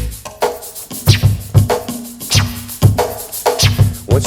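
Quick vinyl stab scratches cut on a turntable with transform clicks, sharp repeated bursts that sweep in pitch, closely spaced in an uneven rhythm, loud and alone with no talking.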